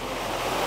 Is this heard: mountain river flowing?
yes